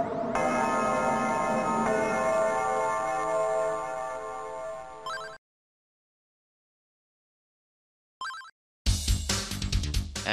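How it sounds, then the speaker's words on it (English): A resonant bell rings out in the video game Ys Book 1 & 2 with a long, shimmering decay, then silence, followed by a brief blip and a burst of bright tonal sound. "enjoy the sweet sound of the bell's last"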